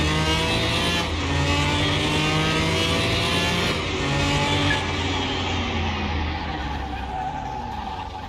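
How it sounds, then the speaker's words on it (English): Twin turbo car in a Car Mechanic Simulator 2021 drag race, engine loud and continuous as it revs hard through the gears, pitch climbing and dropping at each shift, with no voices over it. "Let's try the NC drag. That's the twin turbo."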